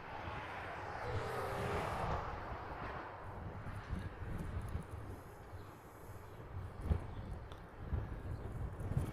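A FedEx cargo jet begins its takeoff roll at Honolulu airport, a distant, faint engine roar and rumble rising gradually over outdoor ambience, with a few soft thumps nearby.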